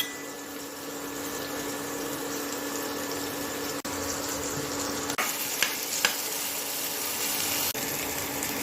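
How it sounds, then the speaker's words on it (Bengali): Mashed boiled eggplant fries in a pan with tomato and garlic, a steady close hiss and sizzle running throughout, with a few sharp clicks from a utensil against the pan. "এর মধ্যে দিলাম টমেটো, দিলাম রসুন।"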